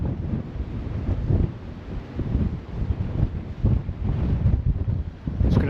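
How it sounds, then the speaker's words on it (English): Strong wind buffets the microphone at Richmond Castle, a medieval hilltop ruin, producing continuous low rumbling gusts that rise and fall throughout, loud and close with no other clear sounds. "It's a bit windy up here."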